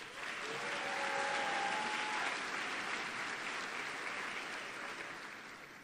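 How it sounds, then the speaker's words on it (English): An audience at a high school honors convocation applauds graduating seniors who have won scholarships, a steady, loud wash of many hands clapping that swells and then slowly fades, with a faint tonal line near the start. "We applaud these seniors."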